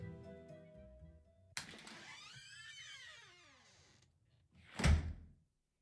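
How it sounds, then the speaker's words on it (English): An old-time radio sound effect of a door opened with a pass key: a sharp metallic click, a creaking swing lasting a couple of seconds, then a heavy thunk as the door closes. "found the right door, and slipped in with a pass key."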